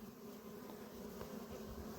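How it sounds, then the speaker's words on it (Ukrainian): A faint, steady hum of buzzing bees at an apiary in autumn runs throughout, low and continuous with no talking. "стара бджола там порпає"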